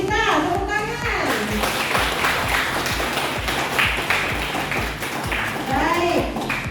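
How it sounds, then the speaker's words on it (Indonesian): A university audience claps for students at an entrepreneurship event, a brisk patter of hands that runs throughout, with a speaking voice at the start and again near the end. "Tepuk tangan."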